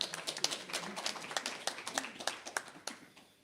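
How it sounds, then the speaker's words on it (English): Sparse clapping from a few people at an indigenous knowledge and bio-trade panel, irregular hand claps at moderate distance with faint room noise and some talk underneath. "Chair, you must clap for me"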